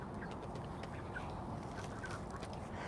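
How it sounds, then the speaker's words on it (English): Young chickens peep and cluck softly amid a rustling, noisy background, scattered short calls blending into a continuous low murmur. "they still have their little chirps, but they're starting to get their clucks"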